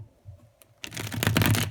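Tarot cards are shuffled close by in one quick burst of riffling and flapping paper that follows a short, nearly silent pause.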